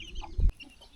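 Country hens on a native-chicken farm cluck and squabble, fighting over food, with a short burst of close clucking and scuffling standing out against quieter background farm noise.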